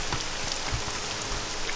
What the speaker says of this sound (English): Oh, we're standing out in the rain reading. Will it ever stop?